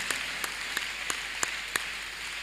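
Congregation at a Tuesday church miracle service clapping along in a steady rhythm, sharp claps about every third of a second over a continuous hum of crowd noise, no speech.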